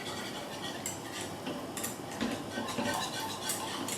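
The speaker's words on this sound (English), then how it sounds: "you just get a whisk and you just give it a bit of a stir and keep an eye on it" A whisk stirring white sauce with melting butter in a pan, soft close clinking and scraping taps against the metal at an uneven rhythm, fairly quiet, with no talk.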